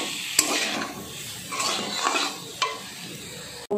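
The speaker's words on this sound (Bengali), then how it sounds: "দিয়ে এবার মশলার সঙ্গে এইগুলো নাড়াচাড়া করে নিচ্ছি।" Paneer being stirred with Maggi masala powder in a frying pan, soft scraping and shuffling with a light sizzle and a few sharp utensil taps against the pan, close and fairly loud.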